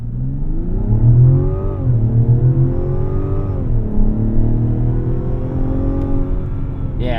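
A 2025 Mazda CX-90 Turbo S Premium Plus accelerates hard from a standstill to 60 mph, with a loud, steady engine roar whose pitch climbs, drops briefly at each gear shift, then climbs again, heard from inside the cabin.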